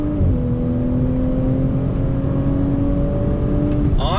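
A 2020 Audi S4 sedan's engine drones steadily and loud from inside the cabin, rising in pitch as the car accelerates out of roundabouts after braking, with a brief burst of higher whir near the end.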